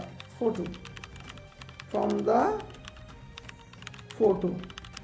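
Computer keyboard typing with quick, light key clicks in a steady patter at close range, interrupted by brief bursts of talk in a quiet indoor setting.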